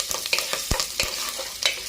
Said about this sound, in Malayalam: നന്നായി ഇളക്കി വഴറ്റാം. ഇതിലേക്ക് അരിഞ്ഞു വെച്ചിരിക്കുന്ന ഉരുളക്കിഴങ്ങ് കൂടെ ചേർത്ത് കൊടുക്കും.